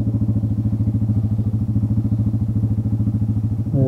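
An ATV engine runs steadily on the Sovereign area trails near Moab, loud and close, with a constant low throbbing chug and rattle throughout and a brief rise in revs at the very end, with no voices.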